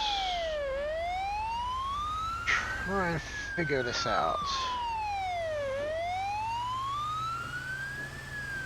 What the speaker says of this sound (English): Probably kill our siren now